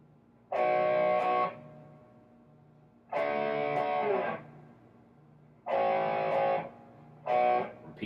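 A distorted electric guitar plays the main riff, with sharp power-chord bursts separated by short gaps and one quicker stab at the end, played alone.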